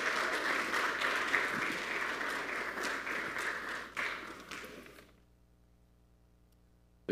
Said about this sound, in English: So can we give them a big round of applause?